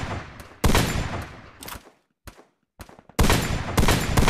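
Bursts of gunfire in a battle royale shooter game, loud rapid volleys with short gaps and sharp isolated shots between, no talking.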